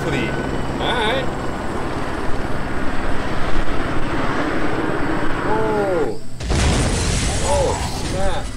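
Black Hawk helicopter going down in a VR zombie shooter game: a loud, continuous rotor-and-engine roar with mechanical crashing and a sudden shift in the noise partway through, as a voice talks over it.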